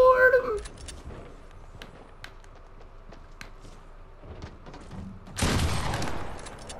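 Hand cannon gunfire in the video game Fortnite: scattered sharp shots pop in quick succession, then a louder burst of fire near the end, with excited talk over the game sounds.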